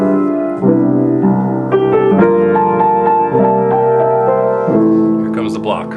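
Jazz piano plays a song in block-style chords, open-position voicings rich with 9ths, 11ths and 13ths, a series of full sustained chords changing every half second or so, loud and close.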